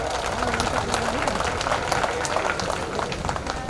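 An audience at a public gathering in India applauds a welcome, giving a dense patter of clapping with crowd noise and a voice mixed in, fairly loud throughout the short stretch.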